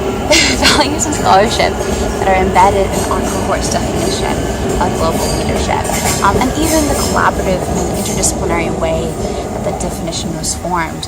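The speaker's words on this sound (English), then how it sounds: "that's a train going by" A train rumbles past outside, a broad low roar and rattle lasting throughout, heard behind a person speaking steadily in the foreground.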